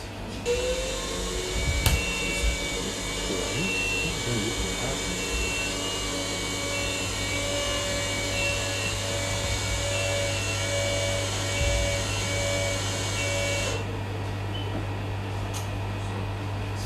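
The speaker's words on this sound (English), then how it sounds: "This machine is called itemizer." An Itemizer explosive trace detection machine at a security checkpoint runs with a steady loud mechanical hum and fan-like whir, a few faint clicks and thumps over it, with no talking.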